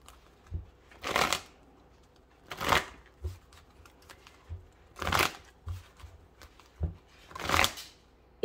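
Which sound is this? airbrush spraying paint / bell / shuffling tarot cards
shuffling tarot cards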